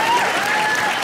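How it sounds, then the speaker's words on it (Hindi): A brief, thick burst of audience applause for the comedian Krushna on a comedy show, loud and continuous, with a voice faintly audible over it. "हमारे दोस्त कृष्णा के लिए जोरदार तालियां हो जाएं"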